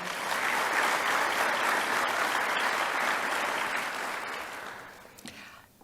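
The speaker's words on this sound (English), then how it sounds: "how about a big round of applause for her?" A sustained round of audience applause at a school scholarship awards night, steady and full for several seconds before tapering off near the end.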